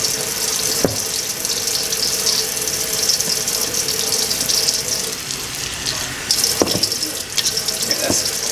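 Water runs steadily from a tap into a sink, a constant rushing splash with a few brief clunks.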